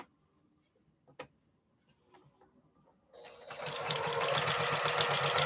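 A sewing machine quilting a postage stamp quilt top starts after a few quiet seconds with faint clicks, then runs loud and steady, close up, to the end.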